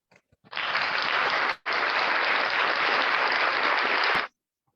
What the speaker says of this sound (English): MAP members, please let us show our appreciation by giving the virtual round of applause